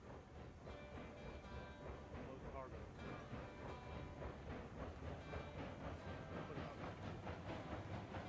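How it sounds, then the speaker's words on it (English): A long 20-car freight train rolls steadily in the railroad game Railroads Online, a continuous rumble with rhythmic clickety-clack of the cars, loud and close throughout. "This is officially the longest train I've ever operated."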